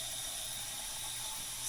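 Water running steadily into a pot of stock, a faint, even hiss and trickle with no voices, swelling slightly at the very end.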